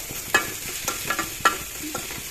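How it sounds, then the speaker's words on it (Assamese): Spoon stirring salt and turmeric into bitter gourd and small fish in a frying pan, a gentle sizzle with a few distinct scraping knocks, close up and with no voices. "এইখিনি তলপৰ কৰি লৰাই দিলোঁ।"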